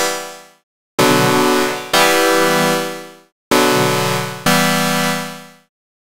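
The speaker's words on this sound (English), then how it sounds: "let's choose the Collection category and the Wavetable Cobalt" Ableton Wavetable synthesizer playing the Cobalt preset: bright, buzzy sustained chords with rich harmonics, four loud held notes each fading out, separated by brief silences, with no talking.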